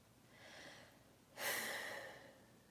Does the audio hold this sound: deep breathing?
yes